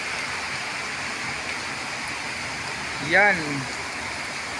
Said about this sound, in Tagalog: Super lakas ng ulan mga master.